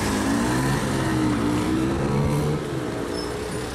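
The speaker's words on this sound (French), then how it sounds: "On n'entend rien du tout parce qu'il y a des putains de scooters." Scooters buzz past on an Italian city street, a continuous loud motor drone with rising and falling pitch as engines pass close by, no speech over it.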